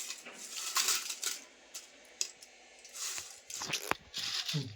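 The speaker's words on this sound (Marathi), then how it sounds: "कसा आवाज येतोय बघा कुरकुरीत" Crispy banana chips made for fasting are crunched up close in a series of brittle, irregular crackling bites with short pauses between them.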